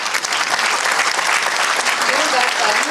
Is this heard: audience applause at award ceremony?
yes